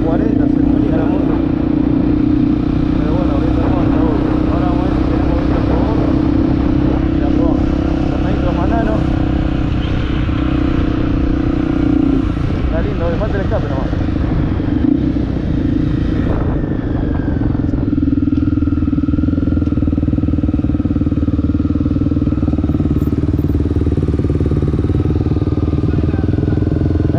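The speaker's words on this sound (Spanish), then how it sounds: "Cuando venía yo había viento en contra. No pasó de 140, se venía la moto." Motorcycle fitted with a Protork 2 exhaust riding along a road, a loud, steady engine drone holding throughout with wind rush, and a voice talking over it.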